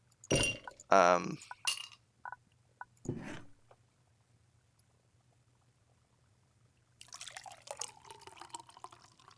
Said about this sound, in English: Let me pour this whole frickin' glass of ice in here.